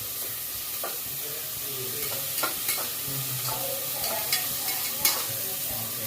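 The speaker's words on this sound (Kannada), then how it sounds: "ಹೀಗೆ ಸೀಗಡಿನ ಫ್ರೈ ಮಾಡ್ಕೋಬೇಕು." Prawns fry in a pan with a constant loud sizzle, and scattered scrapes and clicks of a utensil stirring them rise above the hiss.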